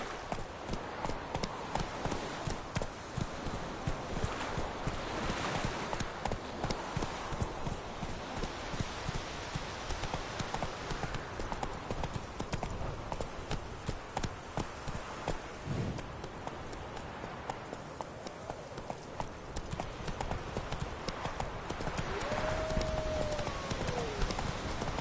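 Hooves of the horse Roach galloping in a PS4 video game, a steady fast clip-clop running throughout over game ambience, with a brief whinny near the end.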